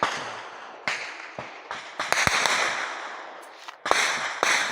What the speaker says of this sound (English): you can hear the sounds of gunshots ringing in the air.